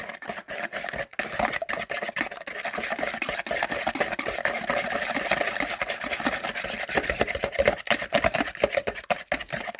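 Baking soda being stirred into cookie dough mixture for blueberry cookies, with steady scraping and clicking of a spoon against a bowl, close up and continuous, in short rapid strokes.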